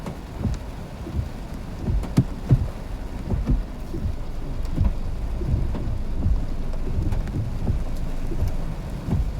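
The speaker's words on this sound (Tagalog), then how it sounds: "Kasi nga grabe oh, ang lakas ng ulan." Heavy tropical downpour with thunder: a dense, constant hiss of rain as sharp cracks and rumbling thunder bursts hit repeatedly in the first half, then the rain settles into a steadier roar.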